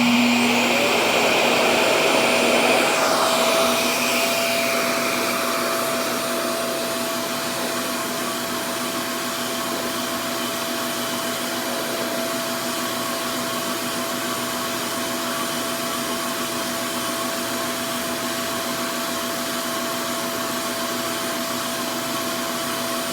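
A RevAir reverse-air hair dryer used on locs runs steadily with a loud whooshing whine, and its motor tone stays constant for the whole stretch. The onset is slightly louder, then it settles into an even hum with no talking.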